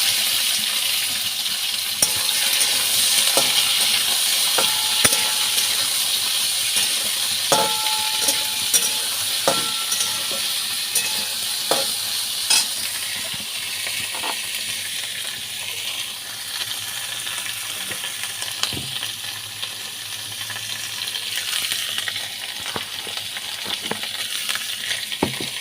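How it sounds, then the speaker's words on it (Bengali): Black cumin seeds and slit green chillies frying in hot oil make a continuous bright sizzle, with scattered crackles and pops and occasional stirring clinks throughout. "তেলটা গরমও হয়ে গেছে। এবার এতে আমি দিয়ে দেবো কালো জিরে"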